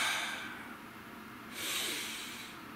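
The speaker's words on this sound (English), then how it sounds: "Breathe." A deep breath drawn in slowly and let out, close and fairly loud, with a rising airy hiss in the second half and no talking.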